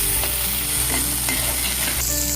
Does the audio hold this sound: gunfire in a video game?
no